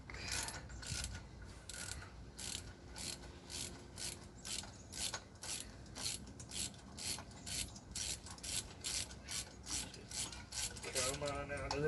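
A 5/8 socket ratchet works to loosen the crank bolt on a 1979 Oldsmobile Cutlass with a 406 small-block, giving a long, steady series of close, rhythmic clicks with no pause.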